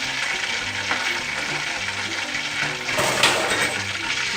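Steady crackling sizzle of fish deep frying in hot oil, continuous and fairly close, with occasional bubbling pops.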